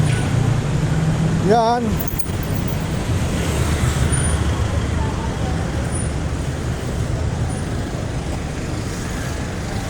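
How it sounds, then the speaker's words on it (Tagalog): Congested road traffic in a jam, a dense continuous rumble of idling and creeping vehicles close by, with a brief rising horn or brake squeal early on and a voice speaking briefly over it. "Umpisa na ang haba ng traffic."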